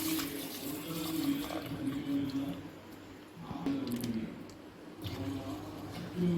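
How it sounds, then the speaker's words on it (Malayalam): Milk pours and splashes steadily into a metal pressure cooker, fairly quiet and close, with faint murmuring in the background. "പാല് ഇതിലേക്ക് ഒഴിക്കുകയാണ് കുക്കറിനകത്തേക്ക് ഒഴിക്കുകയാണ്"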